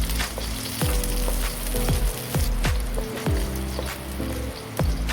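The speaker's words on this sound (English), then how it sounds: "Saute first the garlic" Garlic sautéing in a little cooking oil in a pan makes a continuous crackling sizzle close by, broken by a dozen or so sharp spatula scrapes and knocks at an uneven rhythm, with no voices.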